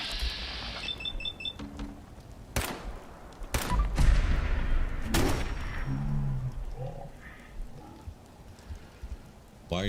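Gunfire in the heavily modded Fallout 4, a few loud sharp shots cracking out over a busy bed of game noise and crackle, with softer bursts and electronic beeps between them.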